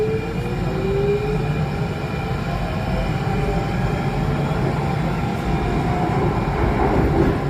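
A Singapore SMRT Circle Line C830 metro train runs steadily, its interior filled with a constant low rumble, rail hum and faint wheel whine, no voices.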